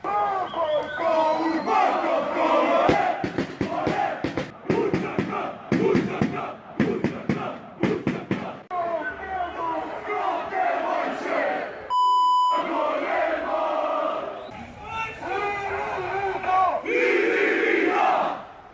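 Football fans chant loudly in a large crowd, rhythmic massed voices with sharp bursts, briefly cut by a censoring beep midway before the chanting resumes.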